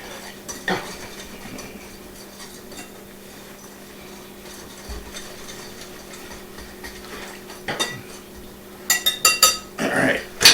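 Dry ingredients and sugar for Irish soda bread get stirred together in a bowl, with sparse utensil clinks and scrapes over a quiet kitchen hum that grow busier and louder toward the end.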